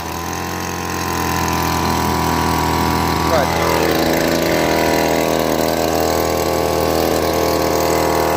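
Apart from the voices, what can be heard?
Keene 140S drywasher engine running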